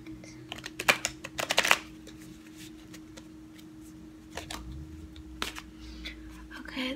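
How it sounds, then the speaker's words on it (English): A deck of tarot cards is shuffled at home in soft, close bursts of riffling and tapping, busiest at the start and again briefly later, over a low steady hum with no speech. "Let's go ahead and give it a shuffle."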